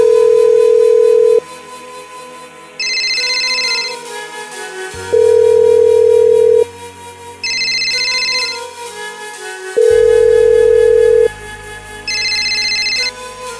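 A telephone rings with an electronic ringtone, a loud synthetic melody looping the same tonal phrase over and over without pause, with no voices.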